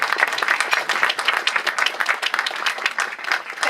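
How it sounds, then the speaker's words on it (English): An audience at a chapter luncheon on autonomous vehicles gives a brief, dense round of applause, many hands clapping together at steady volume with no voices over it. "So if I could have a quick round of applause for Ellen Partridge."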